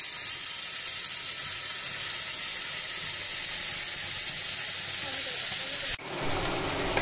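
Banana peel paste sizzling as it drops into hot oil, a steady bright hiss of frying throughout that breaks into a louder burst of spitting near the end.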